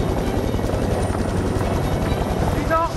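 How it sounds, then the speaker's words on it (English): A helicopter hovers close overhead during a cliff abseil, its rotor throbbing in a loud, steady beat across the whole stretch with a faint voice underneath. "Getting under the chopper and sliding down."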